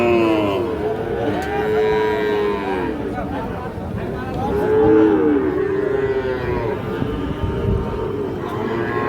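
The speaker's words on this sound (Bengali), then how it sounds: "শাহিওয়াল ষাঁড় বাচ্চা" Sahiwal bull calves, about ten months old, moo repeatedly at a busy rural cattle market, long loud lowing calls overlapping one another against a constant crowd murmur.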